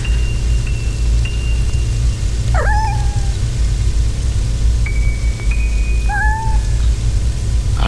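Two drawn-out cat meows, each sliding downward, rise clearly over a steady bed of rain noise, with faint high tones in between and no one speaking.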